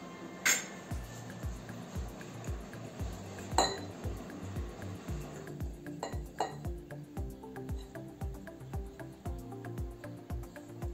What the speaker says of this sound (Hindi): अब हम इन तमाम चीज़ों को मिक्स करेंगे।